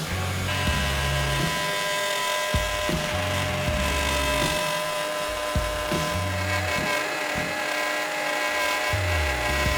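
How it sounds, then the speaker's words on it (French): A Bosch GOF 1250 LCE wood router cuts into wood, its motor whining steadily with repeated dips and surges in load as it feeds along the guide, loud and close throughout. "quand tu vas utiliser ta défonceuse, elle va avoir tendance à partir sur la gauche"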